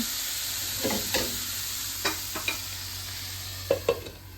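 Tomato chutney cooking in a pan on low gas, with a soft steady sizzle and several distinct scraping stirs of a spoon, about six strokes spread across the few seconds, close by with no talking.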